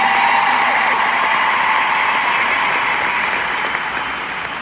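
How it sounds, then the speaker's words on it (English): A hall audience gives a steady, full round of applause for Craig Daigle after a coaching success story, loud and even throughout before easing slightly at the end. "Ladies and gentlemen, give another round of applause for Craig Daigle."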